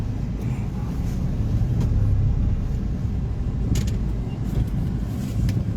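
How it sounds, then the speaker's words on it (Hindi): A car is manoeuvred back and forth in a parking lot, its engine giving a loud, steady low rumble close by, with light knocks and rattles over the top and no clear speech. "थोड़ा मुझे गाड़ी आगे पीछे करना पड़ रहा है"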